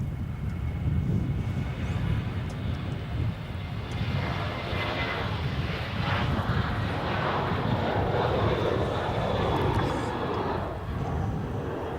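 A fixed-wing airliner at Melbourne Airport begins its takeoff roll, engines roaring in a loud, sustained broadband rumble with a rising whine, heard from a distance with faint wind noise.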